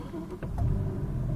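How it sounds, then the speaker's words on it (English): A 2006 BMW M5 with its V10 engine cranking and catching after a starter click, then settling into a steady, loud, close low rumble at idle. "Hear that V10 roar to life."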